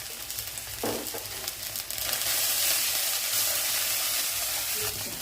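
Spices with chili powder, turmeric and salt fry in hot oil for an egg and hog plum curry, a steady close sizzle with stirring scrapes that swells louder after the first two seconds.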